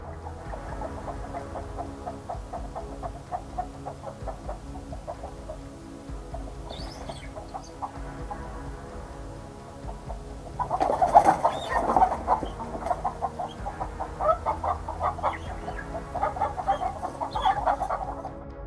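Domestic chickens cluck steadily in a farmyard, a busy flock chattering at moderate distance, with louder overlapping clucks and calls rising in the second half.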